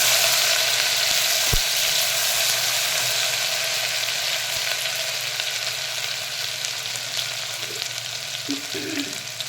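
Ginger garlic paste frying in hot oil with cinnamon, star anise and cloves for dal khichdi, a steady close sizzle with faint crackles and a couple of soft utensil knocks near the end.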